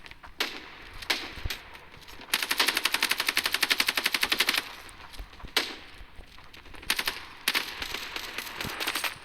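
Machine gun firing in the video game Standoff 2: short, crisp bursts interrupted by one long, evenly paced stream of rapid shots, then more clipped bursts, loud and close with no speech.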